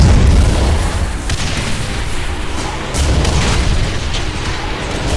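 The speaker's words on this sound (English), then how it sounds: "I apologize again for the loud ass missiles" Missile explosions in the Quake 4 video game sound as loud, heavy booms and rumbling blasts, one big hit at the start and another surge partway through, with no talking.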